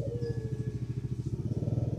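A Yamaha Jupiter Z motorcycle engine runs with a rough, pulsing sputter while throttled, its uneven beats loud and close.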